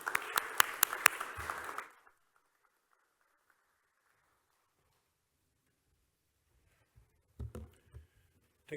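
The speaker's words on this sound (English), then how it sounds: "let's give applause to Rui." A seminar audience gives a short burst of clapping for about two seconds, followed by near silence and a few faint, scattered claps and knocks later on.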